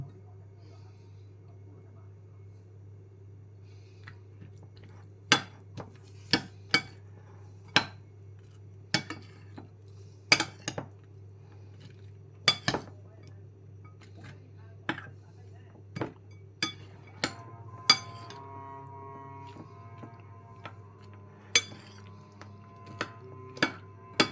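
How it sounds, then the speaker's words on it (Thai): A spoon scoops salad dressing out of a bowl of bean salad with beetroot. Sharp metallic clinks against the dish come at irregular intervals over a steady low hum, and the taps grow more frequent toward the end. "น้ำสลัดไม่เป็นไร ตักออกซะหน่อย"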